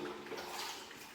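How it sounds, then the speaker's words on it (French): Water splashes and pours over a car as it is rinsed with a bucket during a wash, a short, close, continuous wash of sound with no speech. "Je rince avec de l'eau. On peut prendre un seau, donc là c'est de l'eau, je remets de l'eau"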